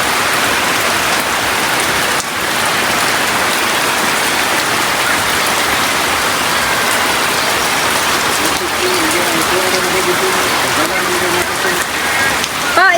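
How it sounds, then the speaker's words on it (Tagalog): Steady, dense rain pours down across the whole stretch, a constant broadband hiss with brief voices murmuring faintly underneath toward the end. "Yan ulan pa."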